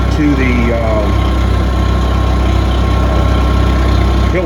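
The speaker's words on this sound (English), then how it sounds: "that's why the tractor's running" An Oliver 66 tractor engine idles steadily and loudly nearby, a constant low chugging drone with mechanical vibration and no change in speed throughout.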